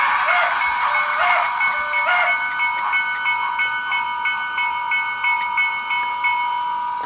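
A model steam locomotive runs along its track, giving a steady hiss of steam with faint, irregular chuffing and brief whistle-like tones, fairly close and continuous with no talking.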